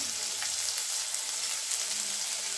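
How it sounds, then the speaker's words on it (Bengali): Ground spice paste frying in a kadhai for kadhai paneer, a continuous bright sizzle with faint crackles and no talk. "এবারে এর মধ্যে আমি দিয়ে দিচ্ছি"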